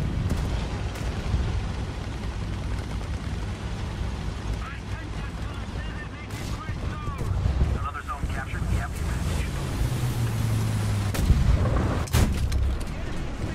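Tank cannon fire from a Pansarvärnskanonvagn II tank destroyer in War Thunder, heavy booming shots rising out of steady wind and engine rumble, with a loud blast near the end while someone talks over the action.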